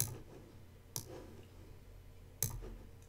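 Mouse clicks at a computer while working in Silhouette Studio design software: three sharp, close clicks spaced about a second apart against a quiet room.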